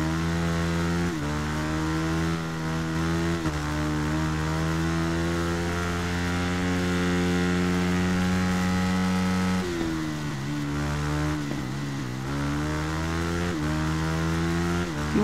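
A racing motorcycle engine in the game Ride 3 droning loud and close, holding high revs with several sharp dips and climbs as gears shift, running continuously throughout.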